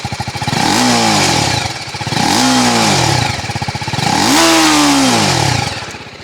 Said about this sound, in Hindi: तो ये आपका RTR का एग्जॉस्ट साउंड है।